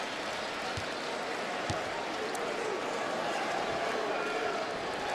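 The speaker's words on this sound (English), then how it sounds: "now the crowd chanting MVP to Norris Cole" An arena crowd at an NBA game between the Miami Heat and Boston Celtics chants steadily for Norris Cole, a dense, even roar that holds at the same level throughout with no break.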